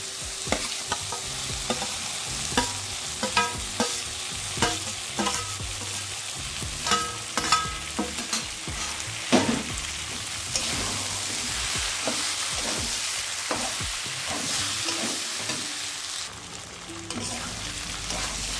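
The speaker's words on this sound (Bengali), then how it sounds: "কষিয়ে নিচ্ছি।" Potatoes, spices and eggplant for an eggplant curry sauté in a pan with a steady sizzle, broken by repeated scrapes and knocks of a spatula stirring the mix in an irregular rhythm, close and prominent with no talking.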